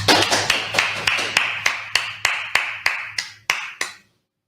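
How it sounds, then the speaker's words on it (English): A dozen or so sharp, evenly spaced claps in a steady rhythm at a gathering, close and crisp, fading slightly toward the end before stopping. "Clap it up for the brother."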